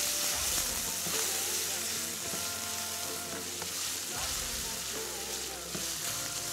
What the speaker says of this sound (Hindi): और अब इसको खूब अच्छी तरीके से आपने फ्राई करना है ताकि अदरक और लहसुन और पाइनएप्पल मिलके एक चौथा जायका हमें मिल जाए